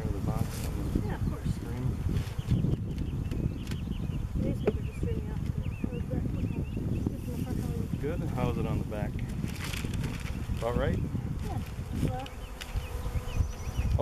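A honeybee swarm buzzes loudly and continuously close by while people talk over the drone.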